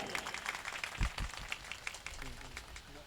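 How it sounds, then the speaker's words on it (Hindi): Audience at a mushaira poetry gathering in Mau, 2019, clapping in scattered, faint, uneven claps heard from a distance. "तालियां बजा दीजिए।"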